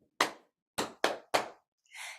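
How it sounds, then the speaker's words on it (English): Hand pats and claps from a children's music-room rhythm game: four sharp, close strikes in an uneven beat, then a softer, longer brushing clap at the end, with no talking. "So you pat the first, you clap the next."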